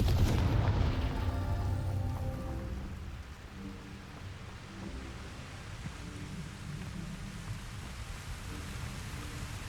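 A Confringo fire spell in Hogwarts Legacy bursts with a heavy boom at the start, then a long rumbling, crackling decay that fades into a steady low roar.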